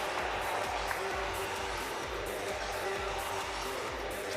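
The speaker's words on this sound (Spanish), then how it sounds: "Se levanta la grada también para aplaudir." Spectators in the stands rise and applaud at the final of Spain's under-14 boys' basketball championship, a dense, continuous wash of clapping from a large crowd, heard at a distance and evenly sustained.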